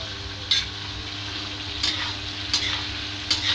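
Potatoes and cauliflower fry in a pan for spicy aloo gobhi, a steady soft sizzle under a few light clicks and scrapes, fairly quiet and close, with no talking.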